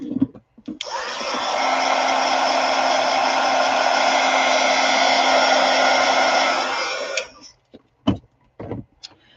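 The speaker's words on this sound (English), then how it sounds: "Maybe I'll hit that with my heat gun a little bit." A heat gun drying acrylic paint on a painted handbag blows a loud, steady whoosh for about seven seconds, then cuts off, followed by a few faint clicks and knocks.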